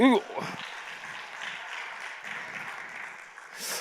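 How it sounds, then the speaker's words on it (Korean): Church congregation applauding after a brief spoken phrase opens the clip, a steady wash of many hands clapping that holds at moderate level, then swells slightly at the end. "박수 한번 더."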